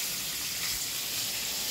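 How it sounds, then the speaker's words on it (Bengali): Paneer cubes frying in oil in a pan for paneer korma, giving a steady, close hiss of sizzling with no voices over it. "পনির কেটে পনিরটা ভাজছি"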